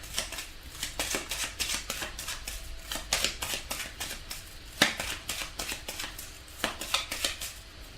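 Tarot cards being shuffled by hand, a dense run of crisp riffling flicks and slaps over about eight seconds, close and fairly quiet, with a few sharper snaps along the way.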